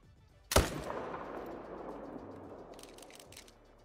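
A single loud rifle shot fired at a hunted animal about 300 meters away, a sharp crack followed by a long rolling echo fading across open country.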